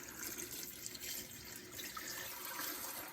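Filtered water pours steadily over apple scraps in a stock pot, a continuous close splashing and gurgling stream with no talk.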